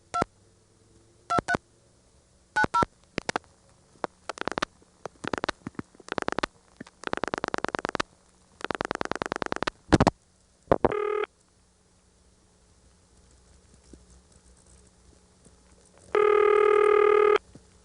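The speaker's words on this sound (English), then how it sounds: "The crossbar switch we're calling from will dial this directly into the 672 switch" An ITT Pentaconta crossbar switch dials a call to a 672 switch: short bursts of tones and clicks arrive in irregular groups, then longer pulsed trains of tone, a brief tone burst, and a steady multi-tone signal near the end.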